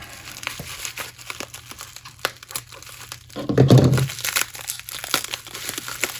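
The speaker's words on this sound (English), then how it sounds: "I'm gonna have to cut the tape here" Scissors cut through tape on a well-wrapped sports card package, giving a short burst of crinkling and snipping about midway, with faint rustles and small clicks around it.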